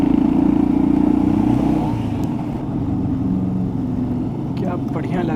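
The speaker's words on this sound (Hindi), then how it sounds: "बाइक से बड़ी सही साउंड आती है जो इसको मिली हुई है।" A motorcycle with a changed silencer runs steadily on a mountain road ride from Thimphu to Punakha, its engine drone continuous and loud, with a person talking over it.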